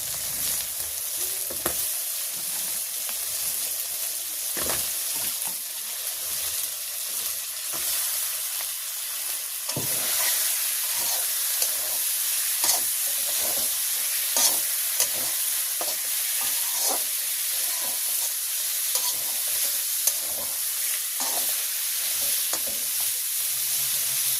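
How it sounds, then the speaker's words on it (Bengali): Flat beans fry in spiced masala in a pan, a continuous crackling sizzle with frequent scraping and clinking of a spatula as they are stirred, no voices. "সিম দিয়ে আবার একটু কষাই নেব"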